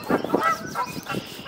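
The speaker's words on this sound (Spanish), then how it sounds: "El pato Donald lo sabe" Donald Duck's cartoon quack sound effect: a run of about four raspy, nasal squawks in quick succession, fairly loud and with no talking over them.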